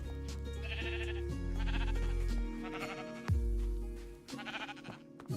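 Sheep in the Minecraft video game bleat several times in a row, with drawn-out wavering calls that overlap one another over a low droning tone, moderately loud and close.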